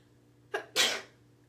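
A single sharp sneeze, near and fairly loud, preceded by a short intake-like burst, with no talking.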